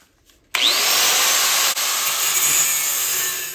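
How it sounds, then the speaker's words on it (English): A Sawzall reciprocating saw bites into metal on a Ford Ranger rear axle during a disc brake swap, starting abruptly with a rising whine, then a loud sustained buzzing cut with one brief dip before running on steadily. "we went and broke out the Sawzall, cut it straight down here"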